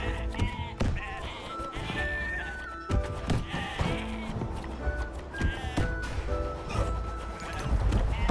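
Sheep in a video game bleating repeatedly among busy game sounds, with horse whinnies and hoof clip-clops mixed into the clutter.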